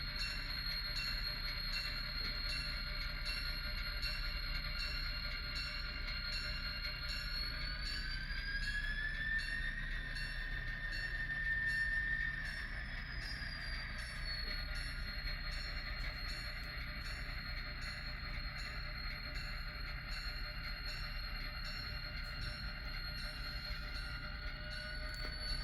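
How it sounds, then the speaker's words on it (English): An Illinois Central Gulf locomotive reverses to pick up cars near Granite City Steel and Wood River, a continuous engine drone with a rising and falling whine and a steady high ringing tone, no voices. "The locomotive is now going to go backwards in reverse"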